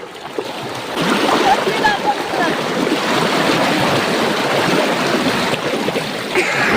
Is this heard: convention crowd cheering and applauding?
no